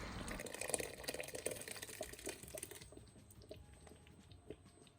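Water rinsed through a blender is poured into a pot of cooking Ghana jollof rice with tomato paste and stock, a quiet splashing, trickling pour that fades to faint drips and small clinks.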